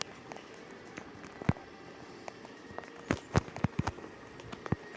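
Gunshots ring out in a Free Fire battle royale match, a scattering of sharp cracks with a quick burst of several shots, set against a quiet background with no talk.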